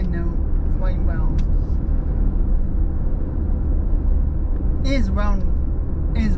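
A car drives along Camino Tassajara between Dublin and Danville, California, its low road rumble and tyre noise steady underneath while a person talks over it.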